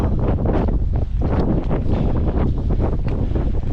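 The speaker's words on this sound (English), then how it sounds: "The wind is blowing at me, blowing the opposite direction" Strong wind buffets the microphone while hiking on open moorland, a loud, continuous roaring rumble with gusting surges and no talk over it.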